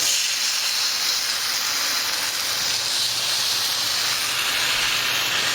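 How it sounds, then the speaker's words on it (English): Java-crusted New York steaks sear in a hot pan, giving a loud, continuous sizzling hiss that holds steady throughout with no talking. "So first thing we're going to do is sear these"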